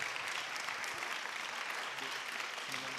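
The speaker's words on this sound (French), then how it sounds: "on peut leur donner une belle main d'applaudissement." Faint, steady applause from an audience at a panel discussion on housing accessibility challenges, a continuous wash of clapping at low level throughout with faint voices beneath.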